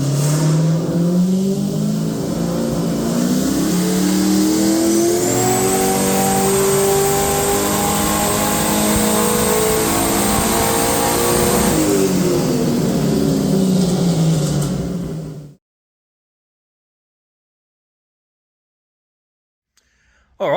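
A Ford XG ute engine revs hard under load on a dyno, running without mufflers, its pitch climbing through several long pulls, then cuts off abruptly into silence before a faint click at the end.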